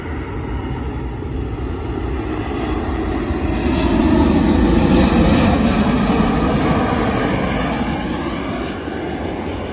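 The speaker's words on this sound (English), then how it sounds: "coming in now on the arrival is a Ryanair 737-800 again" A Ryanair Boeing 737-800 on approach to land at Leeds Bradford roars overhead, its jet engines swelling steadily to a peak in the middle before easing slightly, loud and continuous with no talk.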